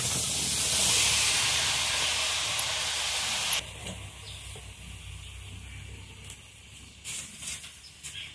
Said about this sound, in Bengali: প্রথমে কড়াইতে আমি চাল কুমড়োগুলো দিয়ে দিচ্ছি।